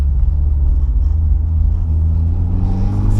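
A race car engine drones loud and close during an autocross slalom on an airfield at Goege in 2023, holding a steady rumbling pitch that rises slightly toward the end.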